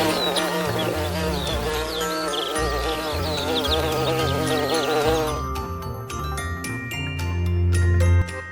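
Buzzing insect drone over a bright, melodic musical backdrop, continuous and fairly loud, with the music shifting to sparser plucked notes partway through.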